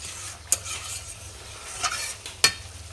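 Chicken is stir-fried in oil in a pan, a soft continuous sizzle with a few sharp scrapes and clinks of a utensil against the pan, close and moderately quiet.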